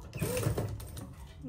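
A domestic sewing machine backstitching along a fabric jacket seam, lining laid over the main fabric, giving a short burst of fast mechanical needle chatter, close and moderately loud, with a faint voice in the background.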